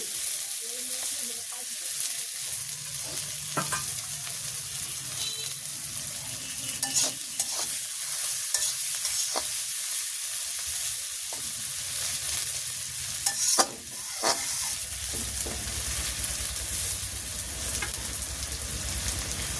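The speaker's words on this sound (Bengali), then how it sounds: "পেঁয়াজটা সুন্দর লাল করে ভাজি করে নিলাম" Onions frying in oil, cooked for hilsa with taro greens: a steady close sizzle with intermittent spatula scrapes and stirring knocks, the frying hiss swelling louder toward the end.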